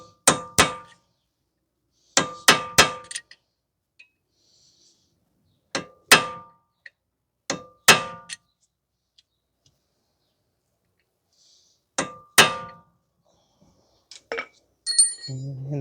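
Hammer blows staking the axle nut on a 2010 Toyota Corolla 1.8 during steering knuckle and wheel bearing replacement, sharp metallic strikes in five clusters of two or three hits separated by pauses, close and loud, with a brief noise at the end.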